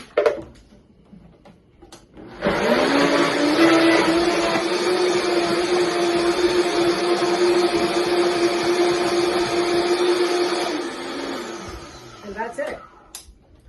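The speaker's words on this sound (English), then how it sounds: "So then we blend." A blender starts up and whirs loudly and steadily for about eight seconds, blending a tofu and nutritional yeast mixture, then winds down, with brief clatter before and after.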